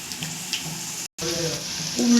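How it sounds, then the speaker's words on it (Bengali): Round chicken balls frying in oil on a gas stove give a steady, close sizzle with light stirring. The sound cuts out for a split second and then resumes. "চিকেনগুলো গোল গোল বলের মতন করে নিয়েছি, ভাজা হচ্ছে"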